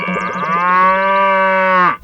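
A cartoon buffalo lets out one long, loud, close moo, a deep sustained lowing call of about two seconds that bends downward at the end.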